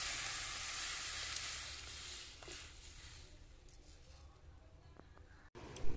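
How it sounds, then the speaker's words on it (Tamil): Tomato paste and onion sizzle and fry in a pan for a prawn curry, a steady hiss that gradually softens over several seconds, with a brief clatter near the end. "அரைச்சி வச்ச தக்காளி போட்டு நல்லா வதக்கணும்."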